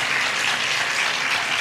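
Audience clapping at a comedic theatre skit, a dense, steady patter of many hands that holds evenly throughout a short burst, with no voices over it.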